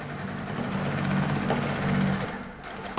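A Fulian M33-D5 sewing machine stitches through thick material in a continuous close, rapid hum that slows and stops briefly near the end.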